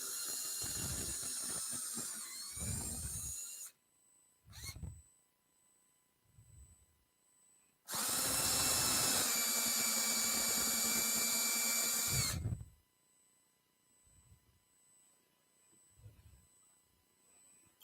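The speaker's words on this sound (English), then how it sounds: "now you can drill out the dimples on the back" A power drill whines through metal, drilling out dimples on a storm window, in two long bursts, the second louder and steadier, with short taps and pauses in between.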